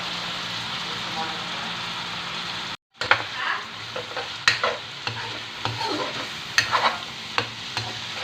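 Ginataang takway, taro stalks cooked in coconut milk, is stirred in a pan. A soft sizzle is cut by a brief silence, then irregular scraping and clattering stirring strokes follow, close and moderately loud.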